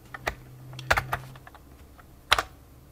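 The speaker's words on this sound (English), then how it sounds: "putting the cursor in the serial terminal and typing something, just one key" A single key tapped on a computer keyboard while working in a serial terminal, heard as a few sharp, close clicks separated by quiet, with a faint steady hum underneath.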